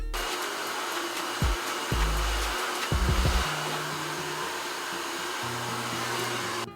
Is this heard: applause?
no